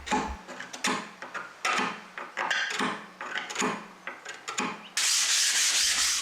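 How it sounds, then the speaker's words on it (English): A hand scraper rubs back the wooden trim of a 1930s silky oak sideboard, close rhythmic rasping strokes in repeated bursts, ending in a louder continuous scrape. "Everything gets rubbed back, giving a smoother surface for the shellac finish later on."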